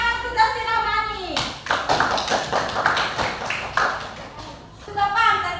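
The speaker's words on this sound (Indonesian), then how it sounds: "tepuk tangan untuk Justina Mani." A short round of hand clapping rises among children's voices and chatter in a fifth-grade classroom, with someone speaking before and after.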